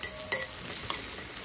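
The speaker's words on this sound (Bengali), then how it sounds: "আর একটা কড়াইয়ের মধ্যে বড় কড়াইতে পেঁয়াজ দিয়ে দিলাম মাংসের জন্য।" Onions fry in a large kadai for a meat dish, a faint sizzle with a few soft stirring scrapes and clinks, no voices.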